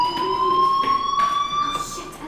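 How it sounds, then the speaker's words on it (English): A steady electronic fire alarm tone in a video game rings continuously, piercing and unbroken, with faint background noise drifting underneath. "do you hear that fire alarm? That means you should be outside."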